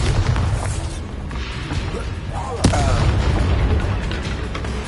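A Bombarda explosion spell goes off in the Hogwarts Legacy video game, giving a sudden loud boom amid dense, continuous battle noise, with spoken voices mixed in.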